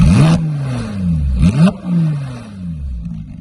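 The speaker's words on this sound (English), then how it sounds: "Give it a couple revs." Porsche GT3 engine revving close by in a few sharp blips. Pitch rises quickly and falls back between pulls, with a mechanical clatter under the roar.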